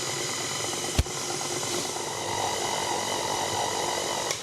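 A stand mixer fitted with a paddle churns cookie dough at low speed, a steady close motor whir with a sharp knock near the start and a slight rise in intensity partway through.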